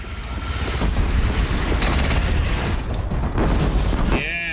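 Explosions and gunfire in the video game Horizon Zero Dawn on PC, loud continuous booms and blasts with mechanical clanks and a sweeping tonal effect at the end.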